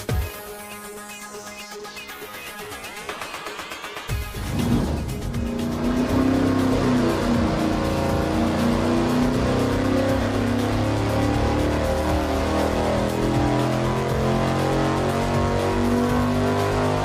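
Engine fitted with a 268-278 camshaft revs on a dyno during an engine-building shootout. After a few quieter seconds it swells into a loud, sustained, rough roar held to the end.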